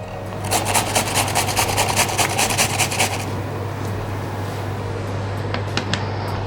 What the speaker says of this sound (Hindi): अब हम इसे कद्दूकस कर लेंगे।